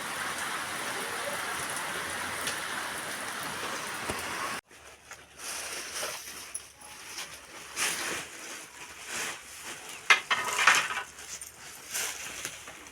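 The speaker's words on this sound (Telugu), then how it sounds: "చూడండి పెద్ద పెద్ద చినుకులు అయితే వస్తున్నాయి." Heavy rain with big drops pours down, first as a dense, even hiss and then as closer, uneven patter on surfaces, with a dog whimpering faintly now and then.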